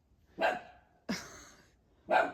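Three sharp dog barks spaced about a second apart from a dog next door barking at someone far down a lane, nearby but moderately quiet, with brief reverberant tails and no talking.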